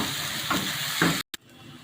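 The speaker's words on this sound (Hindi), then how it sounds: "इसको हम फ्राई करेंगे। दो से 3 मिनट के लिए।" Chopped onions frying in a pan for an okra curry, giving a steady soft sizzle and hiss with a couple of brief stirring swells, then a sudden cut to quieter background.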